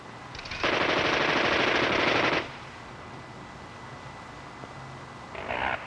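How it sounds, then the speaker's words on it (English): A prototype three-barrel 30 mm cannon fires one sustained, loud burst of roughly two seconds, followed by quiet and then a brief, fainter second burst near the end. "a prototype 3-barrel 30 millimeter cannon"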